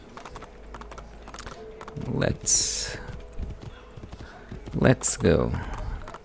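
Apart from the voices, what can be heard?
horse hooves galloping in the video game Assassin's Creed II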